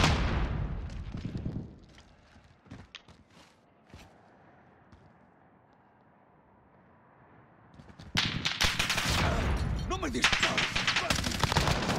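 Gunfire in the video game Call of Duty Warzone: sharp shot bursts at the start, a few isolated cracks in a quieter stretch, then dense loud sustained firing for the final few seconds.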